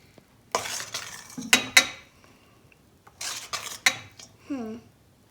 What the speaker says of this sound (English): you should keep mixing it in the bowl because it looks really smooth, but it's really, really sticky when you pick it up